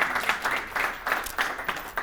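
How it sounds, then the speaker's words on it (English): An audience at a recognition celebration for training program graduates applauds, with clapping rising and falling in uneven bursts from a modest crowd, heard clearly and up close. "let's give each other another round of applause"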